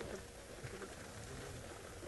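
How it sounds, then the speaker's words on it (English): Rain patters faintly on a safari vehicle's canvas flaps during a Maasai Mara game drive, a quiet, even spatter of small drops with no talking. "The rain is pitter-pattering"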